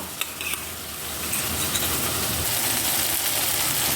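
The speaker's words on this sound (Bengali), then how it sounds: "দইটা দিয়ে দিলাম, দিয়ে আবার ভালো করে কষবো" Beaten yogurt goes into frying masala in a pan. Steady sizzling and stirring scrape along under a faint hiss, with a few sharp clinks at the start before the frying settles into a constant wash.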